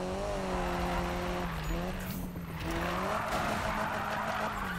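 A Mazda MX-5 drifts in a video game, its engine droning steadily at high revs while the tires skid and squeal almost without a break. The sound is loud and close, with a brief dip in the middle and no talking.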